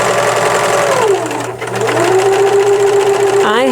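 A sewing machine stitches fabric for a McCall's wrap dress, a loud steady whirring close by. It slows and stops briefly mid-way, then starts again, speeding up and slowing down near the end, with a voice talking over it.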